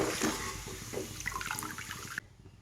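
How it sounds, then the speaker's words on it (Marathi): Ragi and jowar papad fry in hot oil with a loud, steady, close sizzle and crackle that cuts off abruptly near the end. "पहिल्यांदा मी नाचणीचे आणि ज्वारीचे पापड तळून घेणार आहे."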